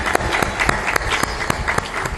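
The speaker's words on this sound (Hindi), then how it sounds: "सबके लिए एक साथ ताली बजा।" An audience at a spiritual gathering claps together in unison, a quick, rhythmic series of sharp, loud claps that comes through close and clear.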